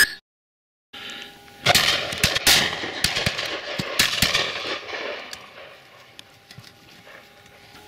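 Shotgun shots crack out at a partridge shoot, several sharp reports in quick succession and some faint further away, fading into quiet field ambience.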